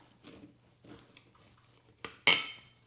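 A knife slicing through a classic pound cake: soft scraping, then two sharp clinks close by as the blade meets the plate, the second louder with a ringing tail.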